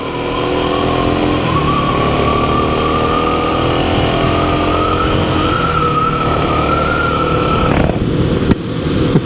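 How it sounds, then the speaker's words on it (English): A 2026 Kawasaki KLX300 motorcycle fitted with a Race Tech 6.4 kg spring rides on a paved road, its engine giving a loud, steady, close droning tone that holds for most of the clip before easing off near the end. "All right, a little on-road with the KLX300."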